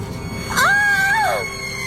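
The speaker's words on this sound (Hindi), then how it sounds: "शालू चिल्ला पड़ती है" A girl's scream in a horror story, a single rising and falling high-pitched cry lasting under a second, loud and close over a low background hum.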